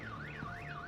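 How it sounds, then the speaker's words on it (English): A car alarm in a Batman video game blares with a continuous warbling siren tone that rises and falls in smooth sweeps, steady and loud with nothing else over it. "My bat stunner would set off the car alarm."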